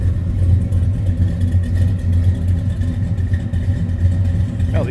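A 1967 Chevrolet El Camino with a rebuilt 327 V8 idles steadily, its low, even rumble running loud and close throughout with no speech over it.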